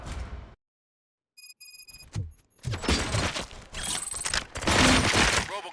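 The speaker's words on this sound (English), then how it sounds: "Gunshots? What's going on?" Bursts of gunfire and mechanical clatter from the shooter game Robocop: Rogue City, loud and dense after a short silence, with layered impacts and effects building through the second half.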